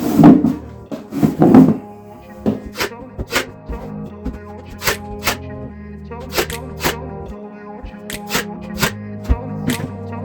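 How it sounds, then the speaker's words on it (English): A nail gun tacks shiplap boards while an old laundry room is redone, firing scattered sharp pops and thuds, some in quick pairs, against a steady musical background. "we're going to take our nail gun and start doing what full sections we can"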